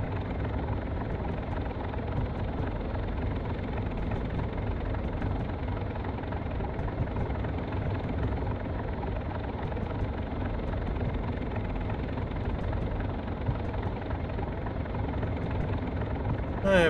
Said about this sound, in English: Here, it's another tickle of the throttle.